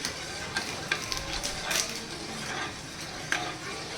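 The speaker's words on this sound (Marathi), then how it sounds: "कसं याला सारखं चम्मचच्या सहाय्याने आपल्याला हलवायचं आहे" A spoon stirs a butterscotch ice cream mixture of milk and milk powder heating in a pan, making soft scrapes and light clinks at an irregular pace over a quiet background simmer.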